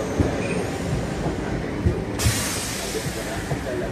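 A Trenitalia regional train passes on the Chivasso–Alessandria line, a steady close rumble of wheels and carriages running continuously with a few heavier thumps and a brightening hiss partway through.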